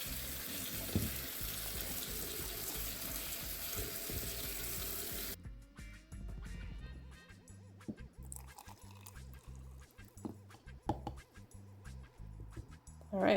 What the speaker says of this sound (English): now it's time to just add some water